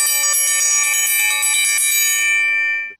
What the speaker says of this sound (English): this is like a dinner bell, a triangle that they would ring to call you for dinner on a ranch